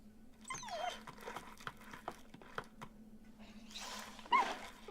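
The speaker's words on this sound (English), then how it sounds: "Alright, puppy cry." A puppy cries as a film sound effect, with several high whimpering yelps spread across the clip amid soft patter, ending in a louder burst of whining.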